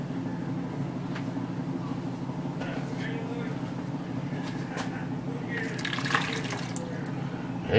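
Tap water runs steadily into a measuring cup for a chicken and broccoli sauce, a close continuous splashing stream with a low hum underneath and a brief brighter gurgle near the end.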